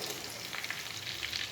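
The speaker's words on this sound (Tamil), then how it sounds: "இப்போ இது நல்லா பொரிஞ்சிருச்சு." Chicken pieces frying in oil in a pan, giving a steady, close, dense sizzle with small crackling pops throughout and no talking.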